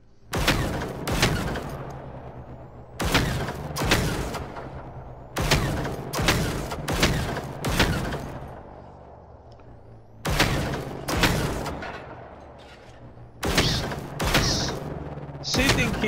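Gunfire from shooting harvester robots in Generation Zero: loud bursts of rapid shots in separate clusters, each a few rapid reports followed by brief pauses, with faint game ambience between them.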